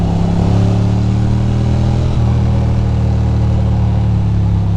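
A Ducati Monster motorcycle engine hums loudly and continuously during a chilly night ride, its steady note shifting slightly partway through amid constant wind rush.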